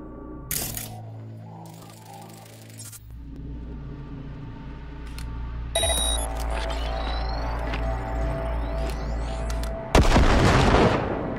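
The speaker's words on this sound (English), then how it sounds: "Now, detonate the grenade." A grenade detonation in Cyberpunk 2077 ends a run of layered game sounds with a loud, sharp blast that swells into a sustained roar near the close.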